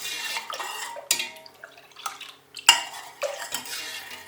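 Milk with yogurt starter stirred in a metal pot, a spoon clinking and scraping against the sides in irregular bursts with sharp knocks and liquid swishes between quieter gaps.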